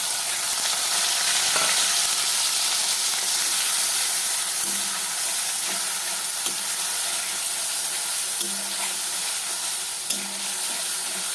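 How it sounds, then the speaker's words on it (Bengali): After a bay leaf goes in, spices fry in hot oil with a loud, unbroken hiss, while faint spatula knocks and stirring scrapes surface now and then across the whole stretch. "মশলাটা একটু নাড়াচাড়া করে নিতে হবে।"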